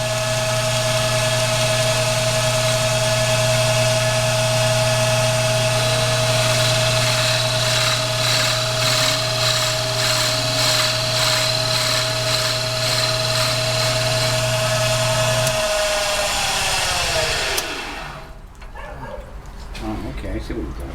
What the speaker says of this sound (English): So after you turn it, you like fine tune it with the belt sander?